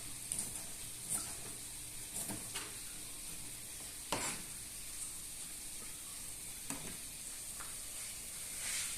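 Tomatoes and rui fish roe fry steadily in a pan, a continuous close sizzle broken by a few sharp stirring scrapes, with no voices.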